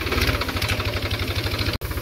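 A small tractor engine running during jowar sowing. A loud, close, steady rapid thumping that holds throughout, with one brief dropout near the end.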